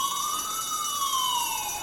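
A fire alarm wails in a long, rising and falling siren-like tone. It sounds fairly faint and distant, with no voices.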